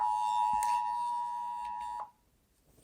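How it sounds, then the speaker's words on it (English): A phone's Amber Alert emergency tone sounds as one loud, steady, sustained electronic beep lasting about two seconds, then cuts off into near silence. "there's an Amber Alert."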